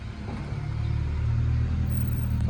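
A car pulling away on a test drive after a wheel alignment, its engine rumble building steadily from a low idle into a fuller, louder drone that holds close and continuous.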